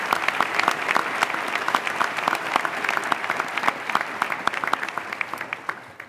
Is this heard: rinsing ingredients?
no